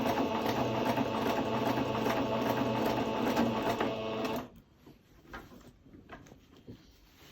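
A sewing machine stitches a skirt in a steady, fast mechanical whir for about four seconds, then stops abruptly, leaving a quiet room with faint small handling noises.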